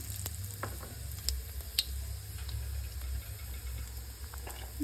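Cumin seeds and green cardamom with whole spices sizzling in hot oil, a steady close crackle with scattered sharp pops over a low hum, no talking.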